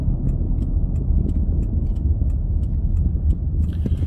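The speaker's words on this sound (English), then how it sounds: "This car does ride a lot better." An old Mustang driving on the road, a steady low rumble of engine and road noise from inside the car, with faint regular ticking over it and no talk.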